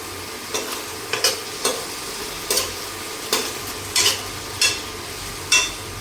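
Spices frying in a pan for rice noodles: a steady low sizzle with a series of sharp scrapes and clinks from stirring, coming roughly every half second to second, close and clear with no talking.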